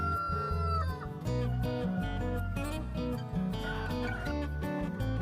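Chickens on an organic poultry farm cluck and squawk repeatedly, a busy flock calling close by in overlapping bursts, with no one speaking.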